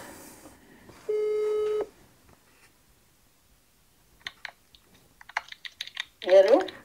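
A telephone ringback tone sounds once as a steady, nearly one-second burst while a lead is called back, followed by silence, scattered faint clicks and then a voice speaking.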